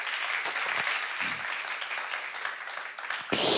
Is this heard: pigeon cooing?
no